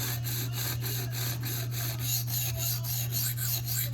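A Spyderco REC Manix 2 knife blade is stroked across a low grit CBN stone in quick repeated rasping passes, a close, even scraping rhythm over a steady low hum.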